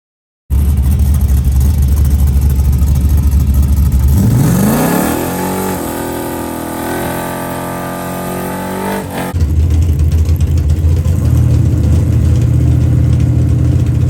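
A work truck engine roars loudly at an outlaw drag race, holding a heavy rumble, then climbing in a rising rev before settling into a lower drone and surging back to a loud steady roar.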